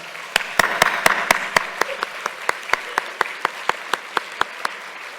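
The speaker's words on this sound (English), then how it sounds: "where I'm clapping in front of a mic" One person claps hands in front of a microphone at a summit closing session in Belfast. The claps are sharp and close, about twenty of them in a steady rhythm over a faint room hum.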